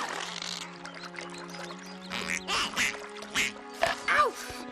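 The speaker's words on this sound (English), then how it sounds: "Mom, want to see how Azula feeds turtle ducks?" Turtle ducks from the animated series Avatar: The Last Airbender quacking in a few short, loud bursts over a steady musical soundtrack, with a voice heard early on.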